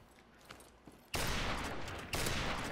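A bolt-action sniper rifle in Call of Duty: Modern Warfare Remastered fires two loud, booming shots about a second apart, each followed by a sustained roar, after a few faint clicks.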